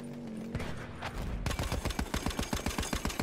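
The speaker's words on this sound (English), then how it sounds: "The sound effect of that cannon is fucking mwah." Heavy cannon in the Battlefield 1 video game fires in a rapid string of loud, punchy blasts, close and repeating steadily for nearly two seconds after a brief rumbling lead-in.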